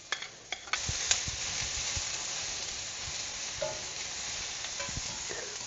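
Carrots stir-frying in a pan for japchae hiss with a close, steady sizzle, punctuated by clicks and scrapes from a utensil stirring the vegetables.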